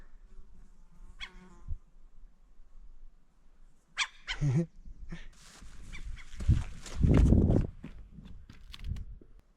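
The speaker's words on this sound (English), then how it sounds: "He's quacking a little bit." A duck in the wild on Vancouver Island gives a few scattered, nasal calls at close range amid rustling and outdoor noise, with a louder burst of activity partway through.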